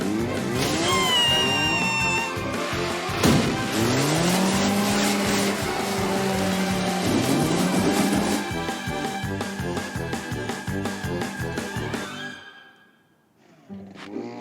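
Cartoon car careening out of control with no brakes, a loud revving engine with squealing tires and skids, pitch sliding up and down, then a short break and the engine roaring again.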